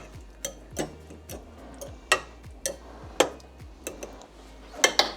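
A fork scrapes and taps against a pan while cutting through biscuits and chicken pot pie filling, giving a series of sharp, irregular metallic clicks close by, with short gaps between them.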